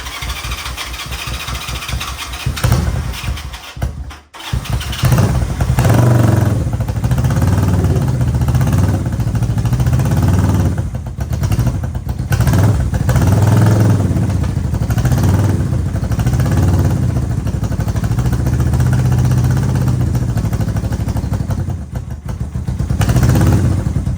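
A Honda CB360T motorcycle engine, revived after many years of sitting, cranks and catches at close range, then settles into a steady, loud, throbbing idle that runs on with a few brief dips and no talking.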